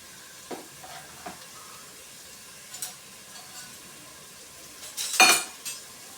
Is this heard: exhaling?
no